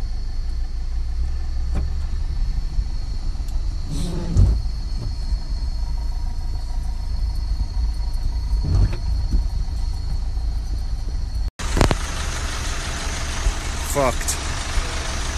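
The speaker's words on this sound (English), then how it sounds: "Took the Hilux because it's the most incognito vehicle we have." Inside a packed Toyota Hilux on the street, a steady low engine and road rumble continues throughout, with a few louder thumps and one sharp jolt.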